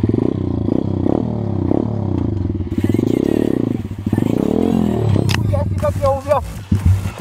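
A pit bike's engine revs and labours while riding in a quarry, rising and falling in pitch, loud and close, with someone speaking over it near the end.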